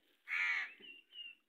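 Crows near a house in the morning, one loud harsh caw followed by two fainter, shorter calls close by, with no voices.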